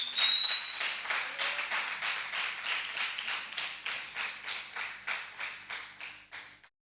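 A church congregation claps together in a steady rhythmic beat, loud at first and then gradually softening before stopping abruptly, with no talk over it.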